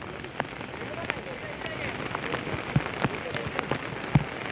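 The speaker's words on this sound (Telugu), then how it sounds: "ఇంకా భారీ వర్షం పడుతుంది" Heavy rain pouring beside a full village pond in Tatlavai, Jagtial district, Telangana, a steady close patter with sharp drops striking nearby surfaces, and faint talk in the background.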